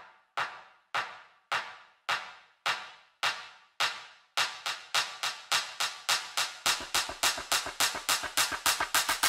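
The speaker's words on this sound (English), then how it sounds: "It's a clap, which is your average clap." A plain electronic clap sample repeats as a build, starting as sparse, evenly spaced hits and speeding into rapid, denser claps, loud and alone with no voices.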